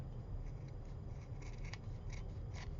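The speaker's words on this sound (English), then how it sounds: "And these are my sewing scissors." Sewing scissors snip repeatedly through material while cutting around a shaped craft tag, a close series of short crisp cuts over a steady background hum, with no one talking.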